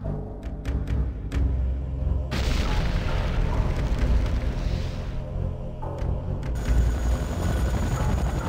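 A Tiberium refinery in C&C Renegade explodes under attack with a heavy booming blast that rumbles on for several seconds amid ongoing battle noise, with a game voice announcing over it.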